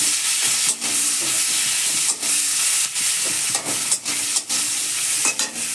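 Onion pieces dropped into hot oil with tempering spices set up a loud, steady sizzle that runs throughout, broken by a few brief dips as the pan is stirred.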